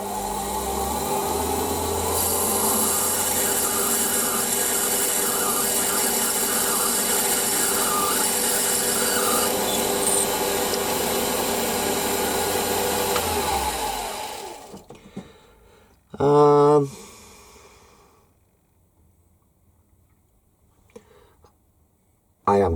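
Drill cutting into a metal oil cup for a Stuart Models S50 engine, a steady whirring grind with a high whine that runs for about fourteen seconds and then stops, followed by a short clatter and quiet.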